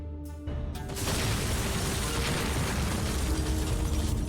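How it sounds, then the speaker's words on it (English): A device in a video game cranked to maximum power until it explodes: a sudden loud blast breaks in after a brief quiet start, then a sustained roaring rumble with crackling debris fills the rest, with no voices. "All right, I'll turn it up to maximum, so the whole thing will explode."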